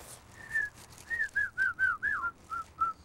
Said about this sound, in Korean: 휘파람 불지 아세요?